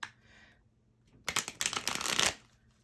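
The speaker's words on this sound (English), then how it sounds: "I'm feeling like this needs a good shuffle after that," Tarot cards being shuffled up close, a dense burst of crisp riffling flutter lasting about a second after a short quiet pause.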